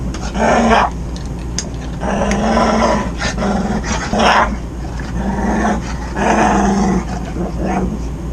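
A dog growls in several low, rumbling bursts over a steady background hum inside an RV, close and fairly loud, with pauses between each growl.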